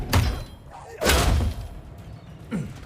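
Spell impact from Hogwarts Legacy combat: two heavy thudding bursts about a second apart, loud and close, followed by a softer hit near the end, with no talk over them.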